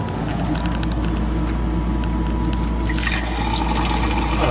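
Water gushes out of a Toyota Winnebago Warrior RV after its water pump is switched on, a loud, steady rushing flow with a brighter splash building near the end.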